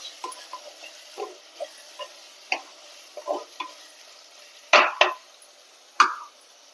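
Crushed garlic sautéed with onions and curry leaves in a pan for a fish curry: soft scattered clicks and taps of the spoon, with a few louder scraping strikes near the end.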